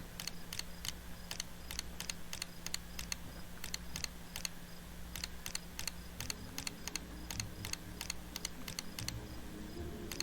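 Rapid mouse clicks skip through dialogue in the video game The Elder Scrolls III: Morrowind, arriving in quick, irregular bursts over a low steady hum, with no one speaking.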